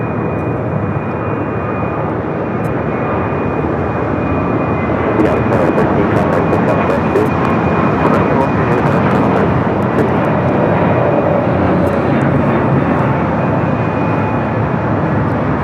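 United Airbus A321neo jet taking off at LAX, a loud continuous engine roar that holds steady throughout, close and dominant, with faint clicks over it.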